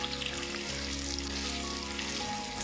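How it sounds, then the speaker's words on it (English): Freshly chopped ginger and garlic sautéing in a pan for a spinach egg stew, stirred in as they cook: a continuous, moderate sizzle with a faint steady hum underneath, with no talking. "I'm going to add the ginger and the garlic that we just chopped, and I'm gonna stir this in."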